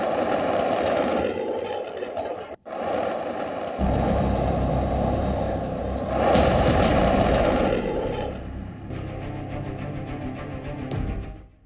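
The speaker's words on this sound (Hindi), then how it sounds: "धू-धू कर जल रही पटाखा फैक्ट्री, अंदर से आ रही धमाकों की आवाज" A firecracker factory burning in Harda sends out a continuous heavy roar with rumbling blasts and crackling bursts, loud and sustained, with a sharp dropout partway through.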